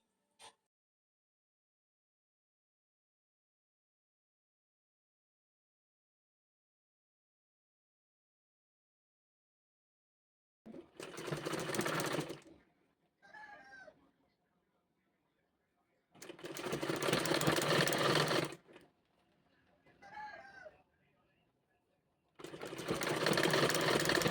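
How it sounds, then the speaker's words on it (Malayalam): A sewing machine stitches the folded hem of a puff sleeve in three loud close runs of rapid motor whirring, separated by quieter handling noises, after a long silence. "ആദ്യം നമുക്ക് സ്ലീവിൻ്റെ താഴ്ഭാഗം മടക്കി അടിച്ചു കൊടുക്കാം."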